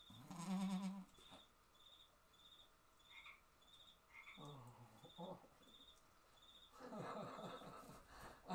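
Baby goats bleat in short, wavering calls during kidding season, one loud nearby cry at the start and more cries midway and toward the end, with a regular insect-like chirp pulsing in the background.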